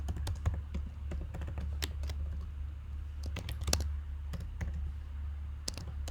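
Rapid clicking keystrokes on a computer keyboard come in irregular bursts and short pauses over a low steady hum, close and fairly quiet.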